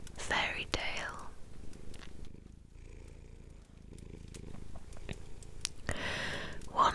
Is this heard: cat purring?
yes